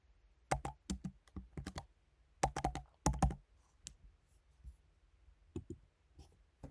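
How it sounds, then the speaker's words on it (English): Fingers tap out short bursts of clicks on a computer keyboard, close and crisp, with brief pauses between clusters of keystrokes in a quiet room. "I will type hello world."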